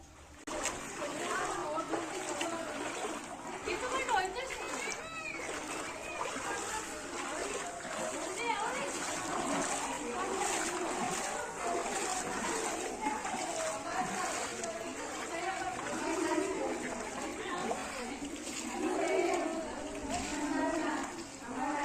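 Feet splash and slosh steadily through shallow water on a walk toward a cave display at a temple complex, with children and adults talking throughout.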